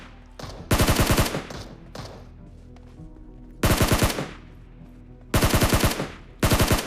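Rapid automatic gunfire in BGMI, the mobile battle royale game, taking down two bots on Erangel: loud, close bursts of about half a second to a second each, separated by quieter gaps with faint footsteps and game ambience.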